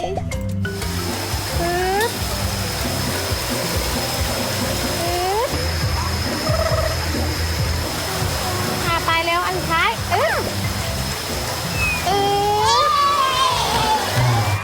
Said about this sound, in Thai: ตรงนี้นะคะเป็นน้ำตกซึ่งเป็นทางเดินเข้าไปยังคาเฟ่